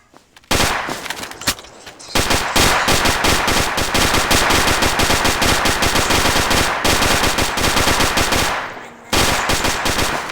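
Rapid bursts of Minecraft gunfire, loud and sustained, with dense automatic fire for several seconds and a few brief pauses.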